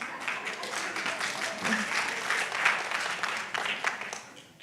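Steady applause from an audience, a dense wash of clapping that holds for several seconds and tapers slightly at the end.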